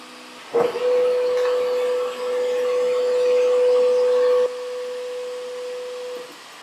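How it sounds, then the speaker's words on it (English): A Snapmaker 3D printer begins printing a part with a click, then a steady, fairly loud motor whine that holds evenly and drops to a softer level before stopping. "I'm just gonna start printing this file now."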